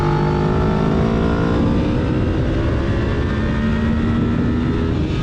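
A 1993 Honda VFR750F V4 engine with gear-driven cams and a carbon fiber exhaust sings at high revs, a loud continuous droning whine with steady harmonic tones held close for several seconds.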